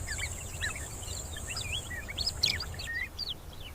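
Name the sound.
small birds chirping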